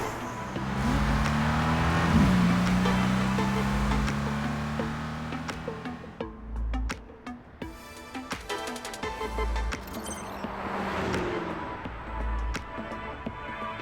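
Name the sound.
car accelerating in a video game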